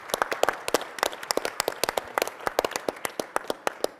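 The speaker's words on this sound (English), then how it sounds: "And also another round of applause for the demos this morning" Sparse, sharp handclaps from a keynote audience at SAP TechEd, a few dozen people clapping unevenly and fairly close, with no voices over the applause.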